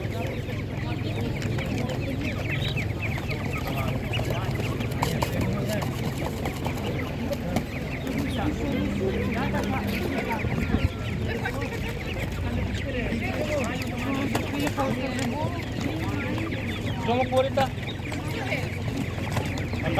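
Chickens cluck steadily amid a busy crowd at a Ukrainian animal market, with voices talking throughout and a constant low hum of activity in the background.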